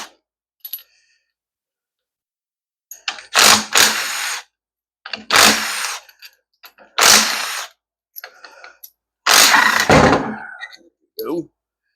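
An impact power tool removes 13mm bolts from a 4L60E transmission in four loud, close bursts of a second or so each, separated by clinks, handling noises and quiet gaps.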